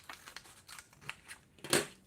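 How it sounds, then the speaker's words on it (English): Scissors snip along a pattern line for a zip-up cardholder, several crisp close cuts in an uneven rhythm, the last snip loudest, with no talking. "take your scissors and cut it along this line"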